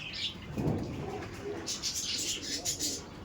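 A pair of Giribaj pigeons, a male and a female, coo softly and throatily over a noisy, hissing background, with low murmuring calls and some higher chirping, faint and indistinct.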